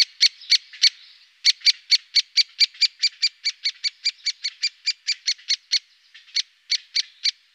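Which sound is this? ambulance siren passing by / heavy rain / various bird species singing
various bird species singing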